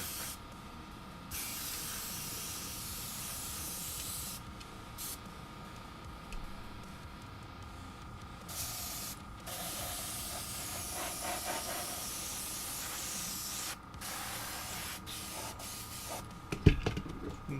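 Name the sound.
spray painting a model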